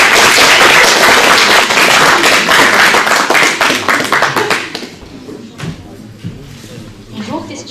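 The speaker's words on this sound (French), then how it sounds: "Je vous prie d'accueillir sous un tonnerre d'applaudissements Kéla" A loud burst of audience applause welcomes a singer from a high school onto a talent-show stage, dense clapping for about five seconds before fading to scattered claps and room noise.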